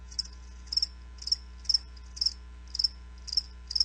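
Crickets chirping, a close, clear insect trill repeating in short, evenly spaced bursts about twice a second against a quiet low hum.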